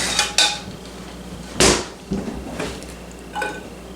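Potato pieces set onto a microwave-safe plate in a home kitchen make several sharp clinks and clatters at irregular moments, close and clear against a faint background hiss.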